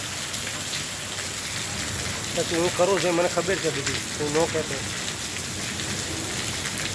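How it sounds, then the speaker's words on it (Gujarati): Heavy rain pours steadily in Mota Mandva village, Gujarat, during a stormy downpour, a loud constant hiss of rain on surfaces near the listener, with someone speaking briefly over it in the middle. "આમ જો ધોધમાર વરસાદ પડે છે"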